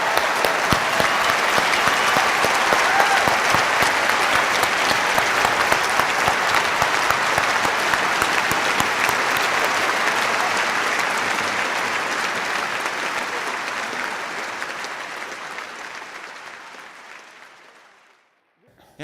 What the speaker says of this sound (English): Richard, come on back out for applause